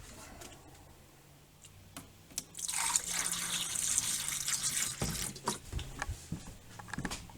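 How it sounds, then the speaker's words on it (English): Plumbing antifreeze is poured into a travel trailer drain, starting as a few soft ticks and drips, then a steady trickling pour with gurgles, fairly close and faint. "I'm just going to go ahead and pour in the drains some plumbing antifreeze that will push any water that may be in there out."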